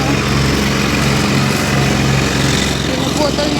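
A machine cuts grass and dry leaves, its small engine droning loud and steady and close by throughout.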